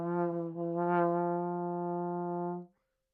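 A single sustained trombone note, held steady for over two seconds, with an uneven, wobbling swell in loudness near its start before it settles and stops.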